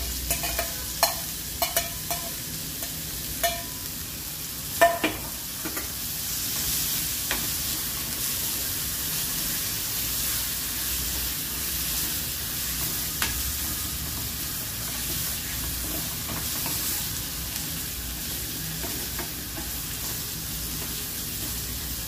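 Gaboli, a wild monsoon vegetable, sautéed with spice masala in a pan: a few sharp spatula clicks at the start, then a steady close sizzling hiss with occasional faint scrapes, with no voices.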